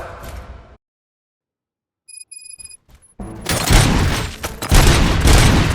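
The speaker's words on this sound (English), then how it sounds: "Gunshots?" Gunfire in the video game RoboCop: Rogue City: after a brief silence and a few electronic tones, a heavy sustained burst of booming shots and rapid fire erupts loudly and continues.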